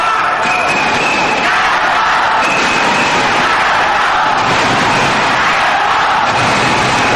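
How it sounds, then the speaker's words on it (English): A badminton crowd at the 2002 Thomas Cup semifinal cheers loudly and steadily in a big hall, a sustained roar of voices with whoops rising through it. "Good support from the crowd now."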